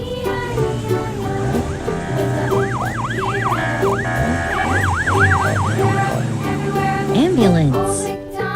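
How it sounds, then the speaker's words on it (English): A toy ambulance siren wails in a repeating warbling pattern over a children's farm song in a kids' learning video, loud and steady alongside the music. "Ambulance."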